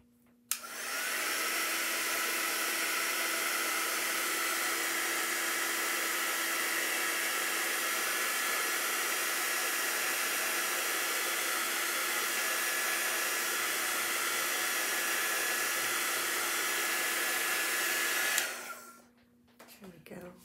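Hair dryer drying a chalk craft project, a loud continuous whooshing blow with a steady motor hum, switched on at the start and running unbroken for about seventeen seconds before shutting off.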